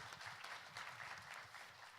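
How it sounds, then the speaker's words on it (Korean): Applause from an audience at a youth policy forum launch event, a steady wash of clapping hands throughout, fairly faint and distant, with no voices over it. "큰 박수 부탁드리겠습니다."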